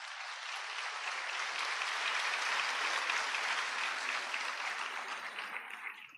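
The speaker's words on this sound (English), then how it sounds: "let us give them a huge round of applause" A large audience at a Father Muller Homeopathic Medical College graduation ceremony in 2023 applauds the graduates with a continuous wash of clapping that builds, holds loud and tapers off at the end.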